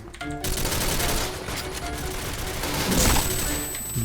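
Gunfire in the online shooter Point Blank, a dense stretch of rapid shots layered with game effects and tones, louder toward the end, with no voices.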